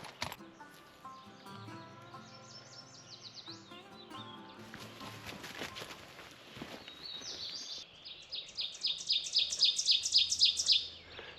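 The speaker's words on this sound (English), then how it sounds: "That bird right there is called an oven bird" An ovenbird sings in wilderness woods, a series of rapid repeated chirping phrases building louder toward the end, over other birdsong and faint background sound.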